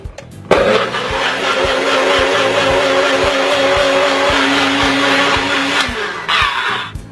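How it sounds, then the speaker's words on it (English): A blender blending a berry protein smoothie runs loud and steady for several seconds, whirring at a constant pitch, then winds down and stops abruptly. "Let's blend up a smoothie."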